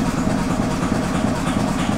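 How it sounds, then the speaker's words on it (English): An engine being tested for bad cylinders runs steadily after starting, a low, even, rumbling idle with a fine rapid pulse, close and continuous throughout. "Now I start, and there is really engine is running"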